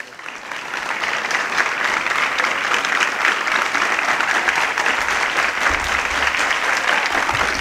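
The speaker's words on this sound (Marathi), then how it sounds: "तुम्ही टाळ्या वाजवा, मी एक घोट पाणी पितो." Audience at a Marathi speech clapping together, a dense, loud, sustained round of applause that starts quickly and holds steady to the end, with no voice over it.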